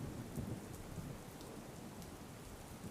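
Heavy rain falls in Bardoli, Surat, as a continuous, even roar of downpour on surfaces with soft low rumbling underneath, moderately loud and steady, with no voices.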